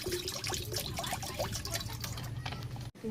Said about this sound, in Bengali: অল্প পানি দিয়ে দিচ্ছি